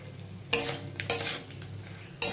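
A pan of hilsa fish curry with boiled ash gourd pieces is stirred, with three sharp scraping strokes standing out over a low, steady simmer, close and fairly quiet.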